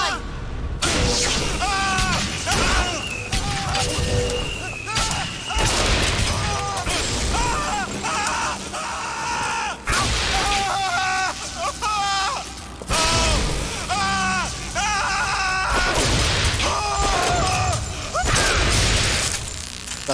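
Gunfire and bursts from the video game BioShock Infinite fill a long combat stretch, loud and continuous with repeated shots and booms, while voices talk over the action.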